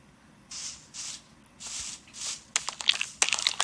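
A series of soft rustling and skittering bursts, then rapid clicky crunching taps, like scuttling video game creature effects, with no voices.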